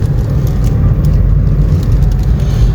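Road traffic on a busy street beside a house, heard as a steady low rumble and whir of passing cars close by, continuous and fairly loud with no voices over it.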